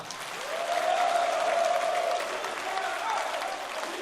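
Party members at a Saenuri Party rally in Jung-gu fill the hall with sustained applause and cheering, a dense wash of clapping and voices that swells early, holds steady, then eases slightly while continuing to the end.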